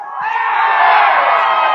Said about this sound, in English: A whistle and a big reaction from the crowd.